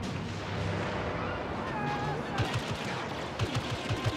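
Blaster fire from a Star Wars Battlefront match, a series of sharp shots cracking out over a constant rumble of battle noise, with a short rapid cluster near the end.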